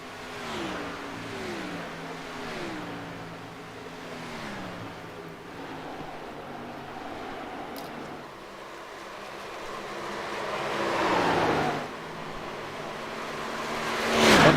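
Stock race cars lap Texas Motor Speedway, engines rising and falling in pitch as several pass in succession, the roar swelling loudest near the end as a car sweeps close by.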